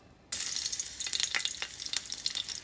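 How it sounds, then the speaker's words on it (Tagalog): Garlic hits a hot pan and sizzles loudly right away, then keeps frying with crackling pops and stirring scrapes, close up and without talk. "At igisa na natin ang ating"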